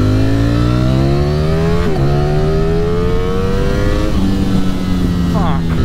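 A Ducati Streetfighter V4 motorcycle engine revs hard and close, its pitch climbing smoothly through a few high-revving pulls with brief dips at each shift, loud and steady throughout.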